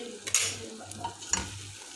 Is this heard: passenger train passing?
no